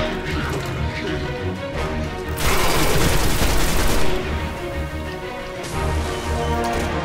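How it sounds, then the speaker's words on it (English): A rocket is fired at an enemy in the video game Destiny: a sudden loud whooshing blast bursts out over ongoing gunfire and combat noise, then fades back into the rattling exchange. "So I open up with a rocket to the face!"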